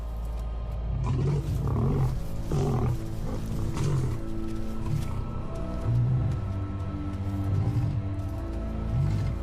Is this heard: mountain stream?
no